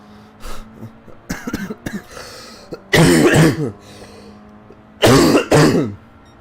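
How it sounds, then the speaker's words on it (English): Someone clears their throat and coughs several times, with softer throat sounds at first and then two loud, harsh bursts, close and with no talking. "I think I already apologised in advance for some coughing that was still guaranteed to happen throughout the stream"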